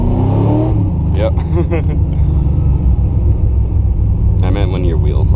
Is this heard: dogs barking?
no